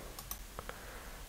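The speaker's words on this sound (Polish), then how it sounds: "Klikam OK." A few quiet, crisp mouse clicks sound in pairs against a faint background hiss as the OK button is pressed in Microsoft Word, with no voices.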